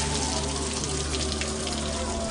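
Water pouring out steadily in a continuous rushing gush, fairly loud and close, with no pauses over the short stretch.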